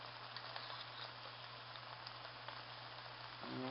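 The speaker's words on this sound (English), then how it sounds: "seems to be frying real good." Plantain slices frying in a pan of oil give a steady, faint sizzle and crackle throughout, heard alone without talk.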